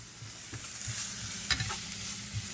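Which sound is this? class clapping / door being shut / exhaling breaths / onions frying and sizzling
onions frying and sizzling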